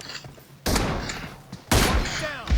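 Two loud rifle shots from an M24 sniper rifle in PUBG crack out about a second apart, each a sharp blast with a rolling tail, with voices faintly underneath.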